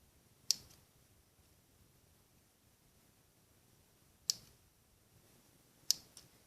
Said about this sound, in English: So we're just going to snip the ends.